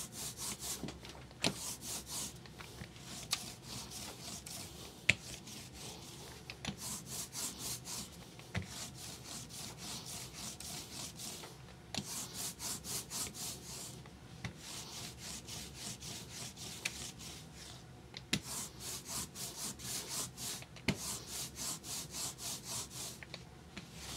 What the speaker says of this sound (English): Right now, I'm just trying to get a complete coverage of the ink.